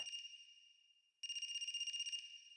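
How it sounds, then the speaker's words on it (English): Phone ringing in the video game AI: The Somnium Files: a bright, electronic trill rings in two bursts, a short one at the start and a longer, louder pulsing ring after a brief gap, with no talking. "Is that a phone ringing?"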